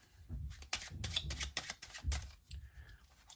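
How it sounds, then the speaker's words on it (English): Overhand shuffle of a deck of playing cards, a close run of soft riffling slaps and flutters in quick irregular bursts, with no talking. "if this is what an overhand shuffle may look like"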